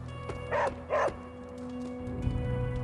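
A hellhound companion in the video game Marvel's Midnight Suns gives two quick, close barks followed by a faint low whimper against a soft steady game hum.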